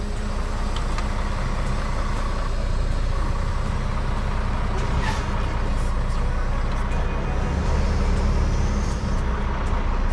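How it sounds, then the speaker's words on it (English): A semi truck pulling a trailer on a delivery run in Beaver Dam, Wisconsin, gives a loud, steady, close engine drone and road rumble throughout, with faint thin squeaks above it. "we're gonna go ahead and tug this trailer here and get on the road."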